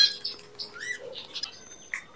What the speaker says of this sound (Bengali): আমাদের ডায়মন্ড ঘুঘু আছে 2 জোড়া অ্যাডাল্ট